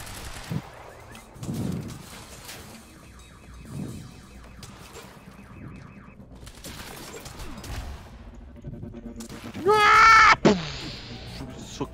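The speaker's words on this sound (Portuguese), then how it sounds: "Tá atirando em mim." Gunfire in the game Quantum Break: scattered muffled shots and bursts, a stretch of rapid mechanical rattling, then a loud squealing, ringing blast near the end, with indistinct voices in the mix.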